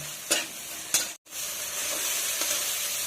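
Spices such as salt and turmeric being stirred and fried in a pan for ghuguni, with a steady close sizzle and a few scraping stirs, one brief dropout midway.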